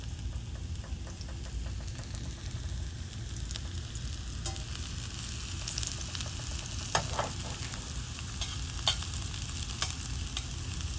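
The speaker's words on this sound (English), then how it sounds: "you see our zucchini starting to caramelize now" Zucchini caramelizing in a hot pan gives a steady, close sizzle and crackle of frying that runs unbroken throughout, with no voices.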